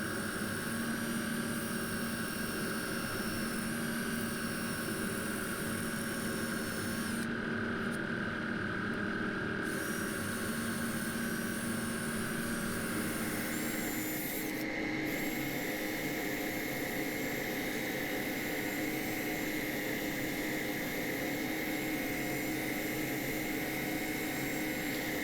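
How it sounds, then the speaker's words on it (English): A power sander fitted with an 80 grit pad smooths the curves of a punky willow bowl on the lathe, giving a steady, continuous whine and hiss with shifting tones as the pressure changes. "So now I've got the 80 grit pad on the sander, smoothing out those curves."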